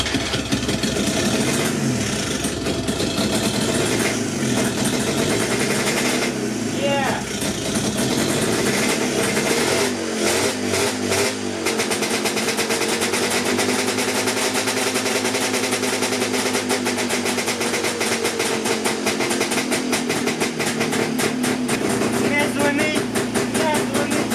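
A restored JAWA 350 638 motorcycle engine starts up and keeps running, a loud, close, steady engine roar with rough pulsing that fills the whole stretch without pause.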